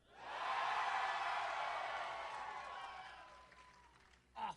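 A convention crowd at Dallas Comic Con Fan Days cheers and whoops in a loud sustained swell that slowly fades, with a short burst of noise at the end.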